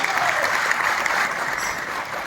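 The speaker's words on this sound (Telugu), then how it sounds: "చప్పట్లు నాకు గట్టిగా" Brief burst of steady, dense applause from a seminar audience at a Rotary Foundation event in Guntur, clapping continuously for a couple of seconds.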